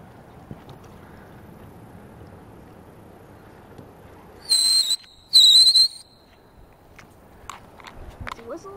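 A whistle sounds on the Delaware River during a kayak outing, two short, clear high-pitched blasts in quick succession standing out above a low background of water and outdoor ambience.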